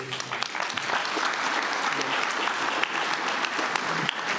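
An audience at an RCSC Board of Directors special session applauds steadily, a thick, sustained patter of many hands clapping that fills the room from start to end.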